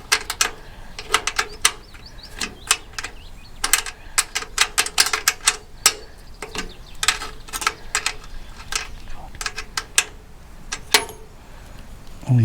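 Spanner clicking and ratcheting as a nut is tightened onto a greenhouse bracket, a long run of sharp metallic ticks in irregular bursts, close and fairly clear.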